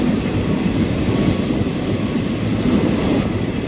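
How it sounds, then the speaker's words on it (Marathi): Tapovan Express train running through the rain in the Kasara ghat after passing a tunnel, a loud continuous low rumble and roar of the moving train with steady broadband noise, close and unbroken. "पहिल्या बोगद्यामधून आपली ट्रेन जी आहे ती सध्या पार झालेली आहे"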